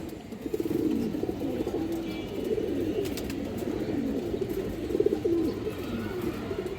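Steady low cooing from pigeons fills several seconds, a continuous rolling murmur at moderate loudness with a few faint clicks and no speech.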